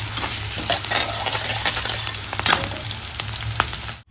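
Chilies fry in oil in a kadai with a continuous, dense sizzle and light crackle throughout, close and fairly loud, then cut off abruptly.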